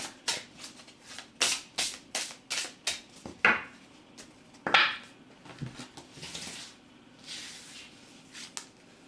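Tarot cards are shuffled in a rapid run of crisp, evenly spaced riffling swishes, followed by a few softer slides and flicks as cards are drawn, close and clear with no talking.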